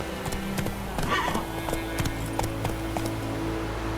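Roach the horse gallops in The Witcher 3, hooves clopping in a quick, uneven rhythm close by over a low ambient drone, with a brief voice mixed in.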